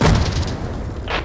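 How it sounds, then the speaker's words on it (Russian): A loud grenade blast goes off in the tactical shooter game Hired Ops: a heavy, close boom that opens the clip and rumbles away, followed by a second fainter burst near the end. "Граната!"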